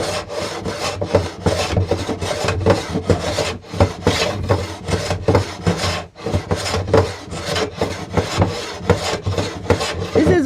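Wood is hand-shaved off the edge of a sticking desk drawer in rapid, rhythmic rasping strokes, close and loud, in an even stream with brief pauses.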